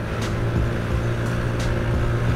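A Honda Vario carburetor scooter with a modified CVT pulley idles and revs, giving a steady, close engine drone with faint mechanical ticks and no speech.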